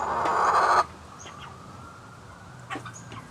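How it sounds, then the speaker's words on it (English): Turken chickens in a backyard flock, with a short loud burst of noise at the start followed by quieter, scattered clucking calls nearby. "There's our turkin. They're neat chickens. They're pretty friendly. They talk a lot too."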